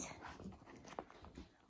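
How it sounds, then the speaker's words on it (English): Playful puppies indoors on a rainy day let out faint, soft whimpers and little yips amid quiet scuffling, all close but low in level. "I'm being attacked by puppies."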